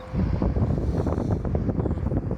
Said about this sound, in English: I hope you can hear me over the wind.